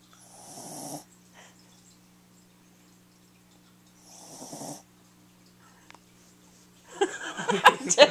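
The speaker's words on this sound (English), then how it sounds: "Oh, she snored so loud." A sleeping dog lets out two loud, nasal snores several seconds apart, with quiet breathing between, followed by people laughing and talking nearby.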